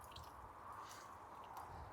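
Pressurized water leaking through Gorilla Tape patched over a leak gives a steady, soft wet hiss with faint squishy dripping, close and continuous, with no voices.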